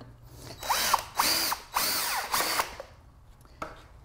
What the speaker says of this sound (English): I just screw my screw in.